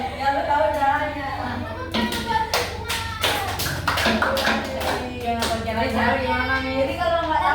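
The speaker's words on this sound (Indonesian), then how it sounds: "Tepuk tangan." Classroom of grade 8 students clapping hands together, a burst of irregular claps that sets in partway through and runs under ongoing talk and voices.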